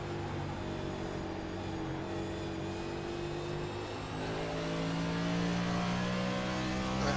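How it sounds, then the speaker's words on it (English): A race car engine in a racing video game at Loudon, New Hampshire drones steadily, its pitch climbing through the gears with an upshift partway through, loud and continuous with no talk. "Upshift around the start-finish line"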